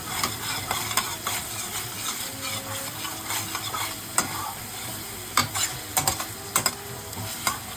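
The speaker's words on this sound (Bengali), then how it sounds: "মশলাটাকে কিন্তু ভালো করে কষাতে হবে" Spice paste being stir-fried in oil in a kadai for a Bengali prawn-stuffed potol dolma, with a steady sizzle and repeated scraping and stirring strokes, sharp spoon clicks against the pan standing out, close and alone.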